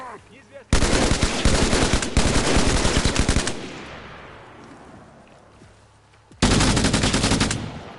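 Automatic gunfire in Arma Reforger with a Halo mod: dense, loud rapid bursts from about 0.7 to 3.5 seconds, a fading tail, then another loud burst near the end.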